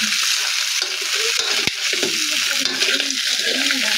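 Crab (alimasag) goes into a pan of sautéed ginger and onion for a crab Bicol Express, with a loud, steady sizzle, stirring scrapes and a few sharp clicks throughout.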